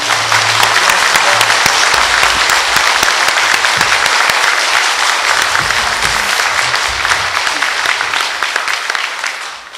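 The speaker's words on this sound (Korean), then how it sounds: "여러분 큰 박수로서 이 두 분의 후보자들에게 기 한번 불어넣어 주십시오" Loud sustained applause from an audience at a mayoral candidates' debate in Tongyeong, a thick wash of many hands clapping, close and steady, tapering off slightly at the end.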